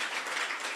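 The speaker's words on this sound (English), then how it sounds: "Please clap for all of us" Audience applause at a 20th-anniversary partnership event, a dense, steady wash of many hands clapping together for a brief moment, fairly quiet and even throughout with no voices.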